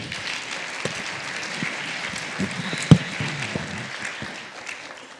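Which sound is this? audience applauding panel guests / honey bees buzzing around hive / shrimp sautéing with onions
audience applauding panel guests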